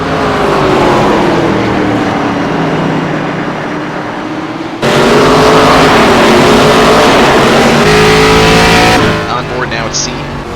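ARCA Menards Series stock cars racing at Kern County Raceway Park in iRacing, loud engines droning and shifting pitch as cars go three wide past lapped traffic, with a commentator talking over the roar.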